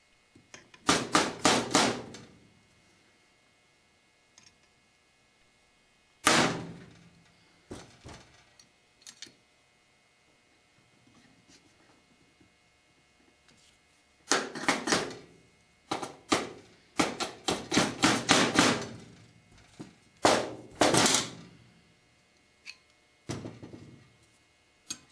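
Sharp metallic taps from a brass hammer while assembling a .22 revolver, in scattered bursts, some single and some in quick clusters, separated by quiet pauses.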